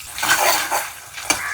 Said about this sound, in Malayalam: വെളിച്ചെണ്ണയിലേക്ക് ഉള്ളി ഇട്ടു